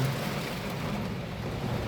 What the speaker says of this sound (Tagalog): andito ako sa loob at umuulan